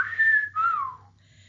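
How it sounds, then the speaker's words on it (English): A person whistles in admiration: a clear two-part whistle, a sustained high note then a second tone that rises slightly and slides downward, short and close, with quiet background hum. "I whistled in admiration."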